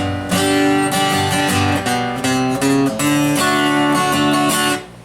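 Strummed acoustic guitar chords ring out one after another, walking up through a short progression with a steady rhythm, close and clear with no talking.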